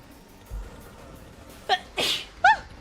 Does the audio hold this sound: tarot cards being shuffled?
no